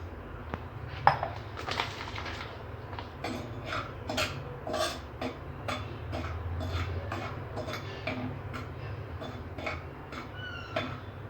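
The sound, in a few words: roasting semolina in a pan over low heat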